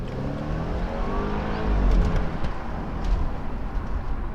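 A BMW Z4 roadster with a 2-litre engine, driven with the roof down: a steady engine drone with wind rush that swells briefly under acceleration, with no talking.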